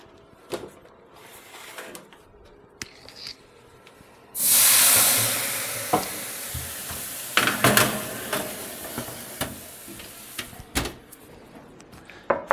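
Ten Schrippen bread rolls go into a home oven: a sudden loud rush of hiss as the oven door opens, followed by scattered clunks and clatters of trays and the door, fading back to a quiet room.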